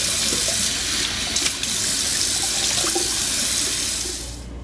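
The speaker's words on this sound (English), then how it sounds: "we are going to rinse out the sink again." A kitchen or bathroom sink being rinsed with running tap water, a loud, steady close gush that hisses on without pause and tapers off right at the end.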